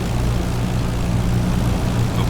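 A de Havilland Mosquito FB Mk.VI idles in DCS World with its left engine running, giving a steady low propeller drone with a throbbing hum, constant and close, and no voices over it.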